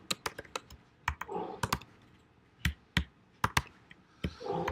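Someone types on a computer keyboard while writing jQuery web code, with sharp, close key clicks in irregular bursts and short pauses and no talking.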